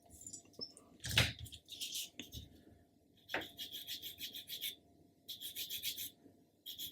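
A sanding stick rasps against a small plastic part from a 2023 Airfix Ferret model kit, sounding close and dry in short brisk strokes grouped into two quick runs, with small handling taps between them and no talking.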